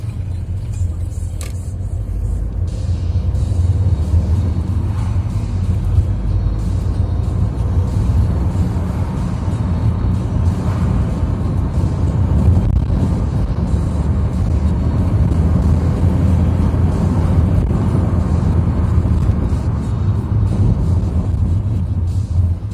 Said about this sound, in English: it's quite fun driving around Fuengirola when there's absolutely nobody around